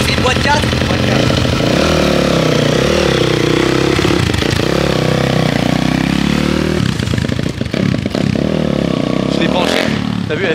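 A motorcycle with a four-speed gearbox, smoking like a two-stroke, runs loud and close, its rough engine revving up and down with clattering, and a voice briefly speaks over it.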